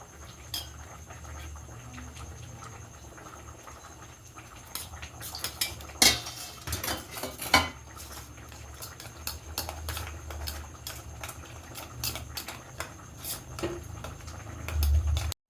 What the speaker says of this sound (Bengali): বেসনের মধ্যে নুন হলুদ দিয়ে এখন জল দিয়ে অল্প ভালো করে ফেটে নেওয়া হবে।